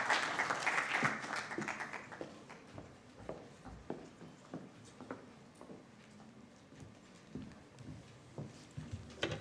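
A hall audience at a debate finals event claps for a speaker coming on stage. The applause is faint and brief, fading after about two seconds into quiet shuffling and scattered taps.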